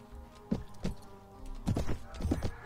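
Horse hooves clip-clop in the video game Mount & Blade: Viking Conquest, a handful of close, hollow thuds in an uneven rhythm, with a pause and then a quicker cluster of steps.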